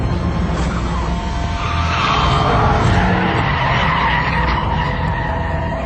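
A Mitsubishi rally car skids with continuous tire squeal and loud engine roar, close and sustained for several seconds. No talk.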